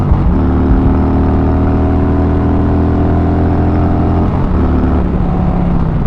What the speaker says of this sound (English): First gear, give it a punch. It's loud.